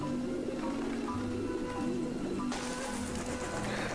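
Flock of pigeons coos and stirs in a bird-filled scene from the Grim Fandango video game, a steady murmur of calls and fluttering, with a sudden burst of brighter noise midway as the birds scatter.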